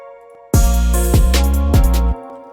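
A heavy 808 bass line shifted half a beat plays in a trap beat, booming low sustained notes with slides between them over a bright upper layer, loud and close for about a second and a half.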